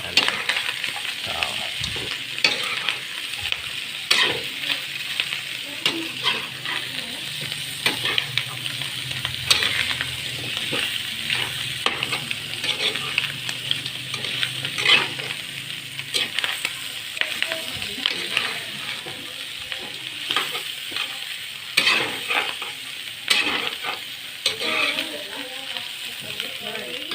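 Small chicken pieces for adobo sa gata sizzling and frying steadily in a pan, with frequent stirring clinks and scrapes of a utensil against the pan throughout, close and continuous, with occasional talk over it.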